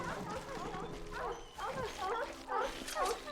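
Dogs bark repeatedly in the Kingdoms of Amalur: Re-Reckoning video game, a series of yelping bursts that recur under continuous speech throughout.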